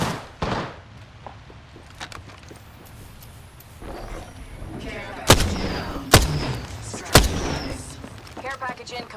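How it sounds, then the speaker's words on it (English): Gunfire in the video game Apex Legends: scattered shots with three sharp, loud cracks spaced about a second apart, over a low rumbling background, with a player's voice talking intermittently. "Getting shot at."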